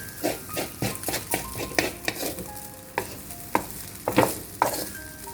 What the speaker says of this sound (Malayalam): അതുകൊണ്ടാണ് ഇങ്ങനെ ഇളക്കുന്നതെന്നാണ് രഞ്ജുവിൻ്റെ കണ്ടെത്തൽ